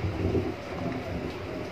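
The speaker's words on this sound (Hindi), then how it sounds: "बाहर नॉइज बहुत ज्यादा आ रही है क्योंकि बारिश हो रही है बाहर" Steady rain falls outside, heard as a continuous broadband hiss with a low rumble, fairly loud and unbroken, with no voices over it.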